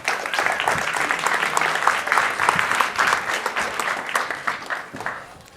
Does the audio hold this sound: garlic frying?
no